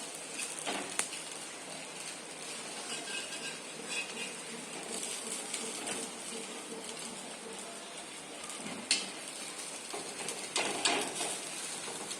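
Sabudana paratha frying in a little oil on a pan: steady, faint sizzling and crackling, with occasional clinks of a utensil against the pan.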